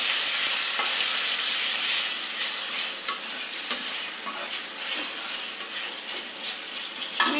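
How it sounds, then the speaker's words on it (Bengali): Ginger and garlic fry with browned onions for a bean curry, making a close, steady sizzle with repeated scraping and stirring taps. "আমি এতে দেব আদা রসুন। এই রসুন, আদা রসুন দিয়ে দিলাম।"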